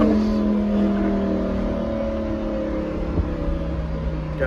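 A twin-turbo Lamborghini Huracan engine roars steadily up close, its pitch climbing gradually as it accelerates, loud and continuous with no talking.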